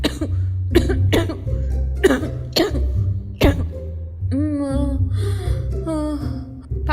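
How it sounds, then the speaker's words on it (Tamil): A person coughs several times in sharp, loud bursts with short pauses, followed by a hoarse, strained vocal sound like throat clearing or a groan. "நிஜமாவே எனக்கு ஃபீவர் இருக்கு, இருமல் கூட இருக்கு."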